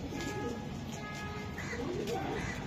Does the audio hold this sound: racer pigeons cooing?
yes